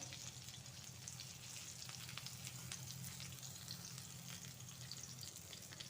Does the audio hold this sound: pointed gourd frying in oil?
yes